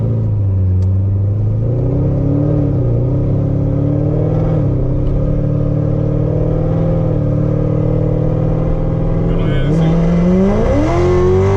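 Chevrolet Corvette C7 Z06 with an 8-speed automatic accelerating, a loud, steady engine drone with rising pitch sweeps as revs climb near the end, heard from close inside the car with voices over it.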